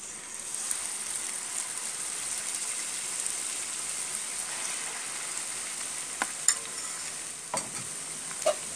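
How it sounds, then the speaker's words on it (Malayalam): Stuffed bananas sizzling in hot oil, a steady bright crackle like light rain, with a few sharp pops and utensil taps toward the end and no voices. "അപ്പോൾ നമ്മളതിനെ എണ്ണയിലേക്ക് ഇട്ട് കൊടുക്കാൻ പോവുകയാണ്"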